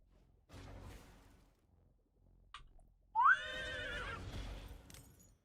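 A horse whinnies loudly in a video game, a single clear neigh that follows quieter game noises and brief sounds earlier in the clip.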